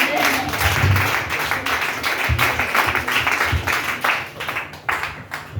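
A church congregation applauding during a service, with dense, loud clapping from a crowd close by, mixed with voices and cheering and rising and falling in steady waves.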